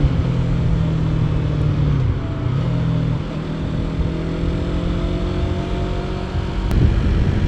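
A 2024 Yamaha R3 motorcycle cruising on a freeway, its engine droning steadily under heavy rushing wind noise, the pitch dipping briefly near the start then holding even.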